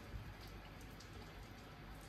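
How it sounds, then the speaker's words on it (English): Heavy torrential rain pours down outdoors in a dense, steady hiss. Faint drops patter within the wash of sound, and the downpour stays even throughout. "it is absolutely pouring down outside like a torrential rain"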